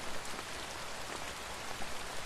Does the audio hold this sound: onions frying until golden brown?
no